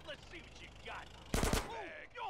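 Short rapid burst of automatic gunfire in GTA San Andreas, several sharp shots in quick succession, loud against quieter game sounds before and after.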